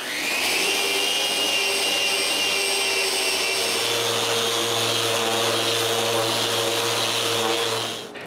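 A router fitted with a round-over bit profiles the wooden top of a shop chest of drawers, a loud, steady high-pitched whine that runs continuously for several seconds before cutting off.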